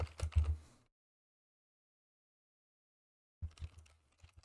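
Short bursts of clicky keystrokes on a computer keyboard as code is typed, a quick flurry, then silence, then a few more taps.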